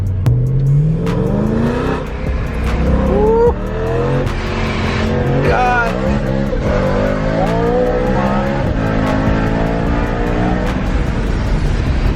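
A loud supercharged BMW M3 engine revs hard and climbs through the gears, pulling hard in second, roaring close by, while people whoop and exclaim over it.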